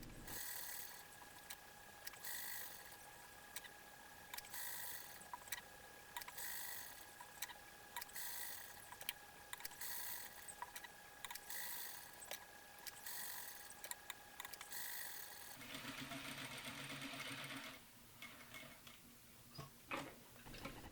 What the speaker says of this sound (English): edge stitch the hem allowance into place from the underside